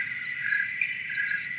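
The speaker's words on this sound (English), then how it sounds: "I hear some maybe crickets and some lightning bugs maybe." Continuous high chirring of crickets on a September night in the country, an even, dense night chorus with no voices.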